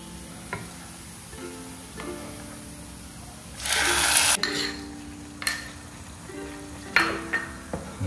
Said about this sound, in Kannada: ಈ ಚಟ್ನಿಯನ್ನು ಈ ಥರ ಚೆನ್ನಾಗಿ ಮಿಕ್ಸ್ ಮಾಡಿ ನೋಡಿ.